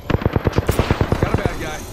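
Rapid automatic gunfire in the battle royale shooter Apex Legends, roughly a dozen evenly spaced, punchy shots over about a second and a half, close and loud, trailing off into a brief ringing decay.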